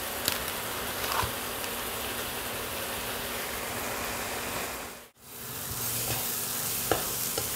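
Spice paste with Kashmiri chilli powder frying in oil for Dorbari chicken, a steady close sizzle with stirring scrapes, broken by a brief drop-out near the end before the sizzle resumes.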